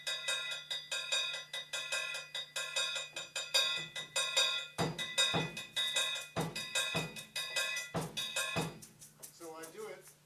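Ride hi-hat played to mimic a triangle in a Brazilian baião pattern, opened and closed with the foot: a steady run of bright metallic sixteenth-note strikes, crisp and close, with ringing tones, playing alone.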